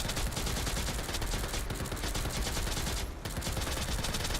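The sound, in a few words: gunfire in video game Girls Frontline 2: Exilium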